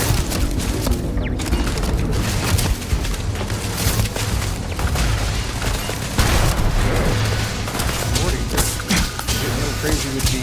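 Incendiary blasts and gunfire in the Starfield video game, a dense, loud, unbroken barrage of booms, thuds and rapid shots, with a person speaking over the chaos.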